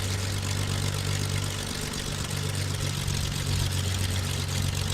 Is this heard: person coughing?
no